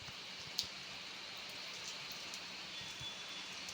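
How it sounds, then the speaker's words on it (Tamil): Heavy rain falling on a street in Dharmapuri, a steady broadband hiss that stays even and fairly faint throughout, with one brief sharp knock early on and no talk. "மழை அதிகமாக இருக்கு"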